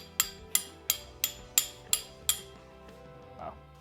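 Utensils clink sharply against a dish while a mushroom and pecorino salad is stirred, seven quick evenly spaced taps followed by softer scraping, near and clear with no talking.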